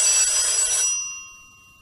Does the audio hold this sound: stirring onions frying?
no